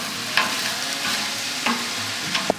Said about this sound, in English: now you want to go ahead and put in that garlic